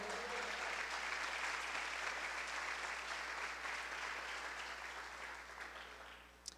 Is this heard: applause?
yes